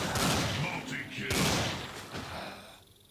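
Gunfire in the shooter video game Dead Target rattles in bursts of rapid shots with thuds, loud and close, while a voice talks over the action.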